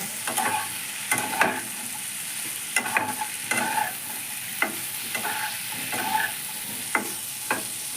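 Egg fritters and pointed gourd frying with spices in a pan, a steady soft sizzle broken by repeated sharp scraping stirs every second or so, close and alone with no voices.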